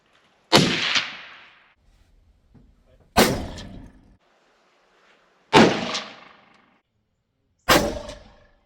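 Four loud, close shotgun blasts from a pump-action shotgun while pheasant hunting in Kansas, spaced about two to three seconds apart, each with a sharp crack and a short fading tail, with no talk.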